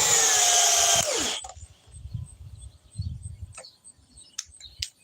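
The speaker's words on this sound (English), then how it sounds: "Speed 2 with the Milwaukee brushless." A Milwaukee brushless drill runs at speed 2 with a loud, high whine that winds down after about a second, leaving quiet background with faint bird chirps.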